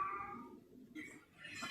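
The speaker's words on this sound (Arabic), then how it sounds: "صوت القطة المهورنة" Cat in heat meowing, a short drawn-out yowl followed by a second rising cry, faint and close, with low background noise.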